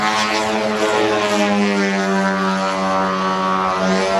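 An Extreme Flight 40% Slick 580, a large semi-scale freestyle model aircraft, flies with a steady, loud propeller drone that holds an even engine tone throughout, with no voices.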